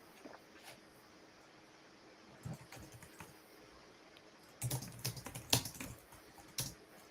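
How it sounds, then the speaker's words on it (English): Quiet, irregular tapping of keys on a computer keyboard in short bursts, growing a bit busier and louder near the end, with no voices. "I'll type something."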